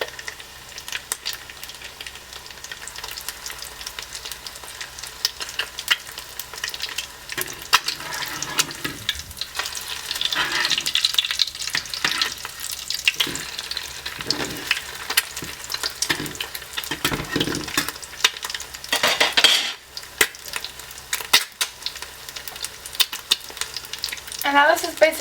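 Eggs fry in a pan with a steady close sizzle and crackle while a spatula scrapes and taps against the pan as the yolks are stabbed, with brief louder spatters now and then.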